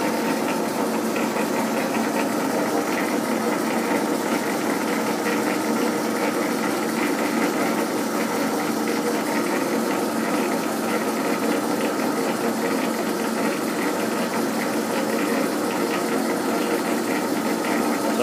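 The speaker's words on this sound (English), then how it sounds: "So if we put the lathe back into gear, switch it on" A metal lathe runs in gear during a ball-turning job, giving a steady, continuous mechanical whir and hum with fine rattling texture, close and even throughout with no talking.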